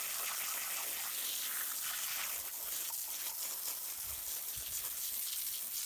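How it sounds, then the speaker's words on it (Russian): A pressure washer at about six atmospheres blasts water over a dirty Derbi Senda 80 motorcycle, making a continuous rushing, splattering spray with uneven gushes, moderately loud and steady throughout, with no talking. "Потом я его помыл водой под высоким давлением"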